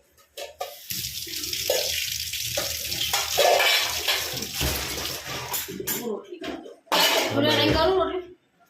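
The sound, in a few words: washing chikoo (sapodilla) fruit under water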